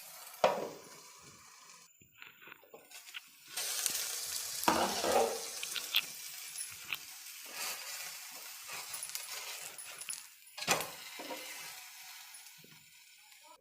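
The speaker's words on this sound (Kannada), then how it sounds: "ಈಗ ಇನ್ನೊಂದು ಕಡೆ ಟರ್ನ್ ಮಾಡಿ ಬೇಯಿಸ್ಕೊಳ್ತೀನಿ" An okra dosa sizzles in a pan after being turned, a steady hiss of frying that swells after a few seconds, with occasional sharp clinks of a spatula against the pan.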